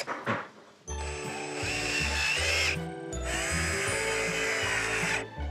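A power screwdriver drives screws while building a padded upholstered door in a workshop, two long whining runs with a brief pause between them, near and loud.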